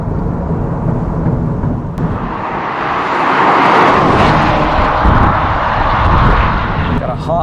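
The turbocharged engine of a 2024 Subaru WRX TR revs hard toward the redline, a loud rising roar that swells and holds, heard from inside the car with a voice talking over it.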